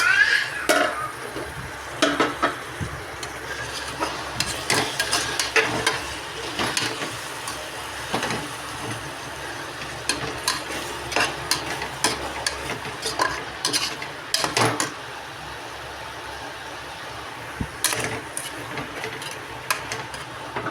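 Tomato rice mixture sautéing in a pan at home, with steady frying noise and irregular scraping stir strokes and occasional clinks of a utensil against the pan throughout.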